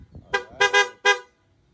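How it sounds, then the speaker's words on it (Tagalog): Four loud, bright horn beeps from a PIA compact horn on a Yamaha Nmax V3 scooter, a short toot then a quick pair and a final blast, sounding close and alone. "naglagay rin tayo ng PIA compact horn"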